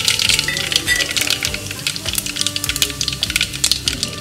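Curry leaves crackling and sizzling in hot oil for a kadhi tempering, dense bright spattering pops heard up close with no talk.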